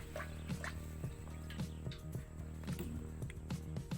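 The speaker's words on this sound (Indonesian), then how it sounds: "yang mudanya itu aku langsung masukkan ke dalam air ya" Peeled young banana blossom petals drop into a bowl of water, giving a quiet series of small drips and soft plops at irregular intervals, close by, with no talking.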